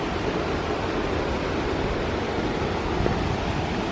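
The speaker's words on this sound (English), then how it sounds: "I hear the water." Steady broadband rushing water from a waterfall at the end of a canyon trail, a continuous close wash of noise with no voices.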